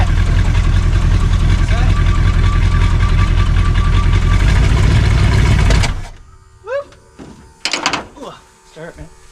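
Jeep J10 crew cab engine runs loud and close at a rough, knocking idle for several seconds, then cuts out abruptly, leaving quieter knocks and shuffling noises while voices talk nearby.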